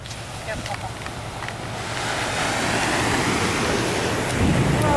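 Pacific Ocean surf rolling onto the shore at Brookings, Oregon, a steady broadband wash that builds slightly louder over the few seconds, with some wind noise on the microphone and no one talking.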